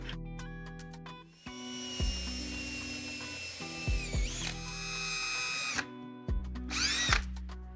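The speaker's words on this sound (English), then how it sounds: "Holes drilled for the receptacle." A power drill bores holes for a Minn Kota Riptide Terrova Quest trolling motor receptacle, whining up in several short bursts that rev, bog down and stop, with quiet pauses between them.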